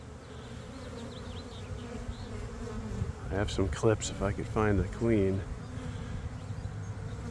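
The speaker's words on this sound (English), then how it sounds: "There's not many bees left." A low, steady buzz of a bee swarm hums throughout while someone speaks briefly in the middle, close to the microphone.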